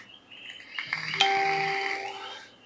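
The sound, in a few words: message notification chime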